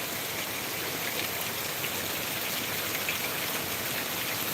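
Rain falls steadily and heavily on surfaces in Trichy, a dense even hiss of drops with no break, close and loud throughout.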